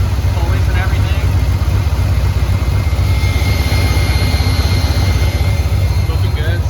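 A Buick car engine runs after an electric fan install, a loud, steady low rumble close by with a rough idle texture and no break, apparently with a voice under it.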